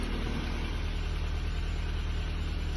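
A Ford New Fiesta with a Sigma engine and about 121,000 km hums steadily just after its first start, a constant, fairly quiet mechanical drone heard close by with no voices.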